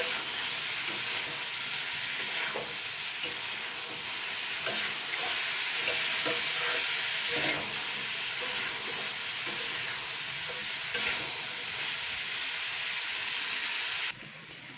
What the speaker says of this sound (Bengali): সমস্তগুলো উপকরণ দিয়ে আমি তিন চার মিনিট ভালো করে নাড়াচাড়া করে নেবো